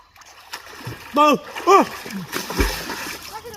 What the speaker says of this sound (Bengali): এই যে পুকুরে গোসল করতেছি